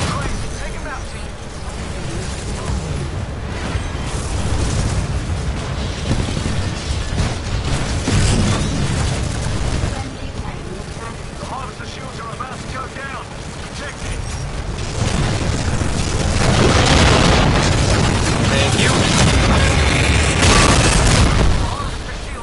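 Mortar titan explosions in Titanfall 2's Frontier Defense mode, a continuous roar of heavy booms and blasts swelling louder toward the end, with scattered gunfire in the mix.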